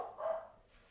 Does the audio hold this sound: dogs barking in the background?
yes